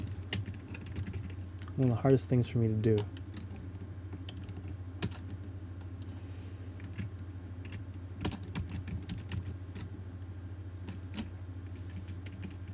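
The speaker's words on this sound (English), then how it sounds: "By the way, typing Shift A," Computer keyboard typing during an iOS audio programming session, a short burst of quick keystrokes near the start with lighter scattered taps later, under a steady background hum while someone talks.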